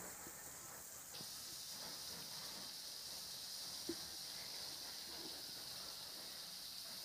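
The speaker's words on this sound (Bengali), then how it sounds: "আমি প্রথমে মাছের মুড়োগুলিকে ভেজে নিচ্ছি" Fish heads sizzle in hot oil for a rui fish recipe, a steady bright frying hiss that continues throughout at low volume, with faint pops and a brief clatter near the middle, no voices.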